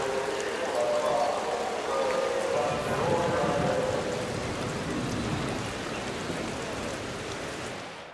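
Torrential rain in the racing game Golden Lap, a dense, steady hiss of pouring water that holds throughout, slowly easing in level before cutting off, with faint tonal game sounds mixed in.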